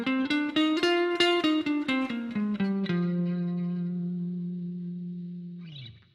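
Electric guitar with chorus and distortion effects plays an F Dorian scale as a run of single picked notes stepping down, ending on a long sustained ringing note that fades before a final scrape.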